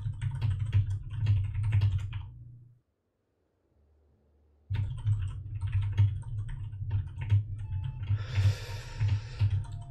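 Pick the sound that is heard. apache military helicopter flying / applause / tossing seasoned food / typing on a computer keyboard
typing on a computer keyboard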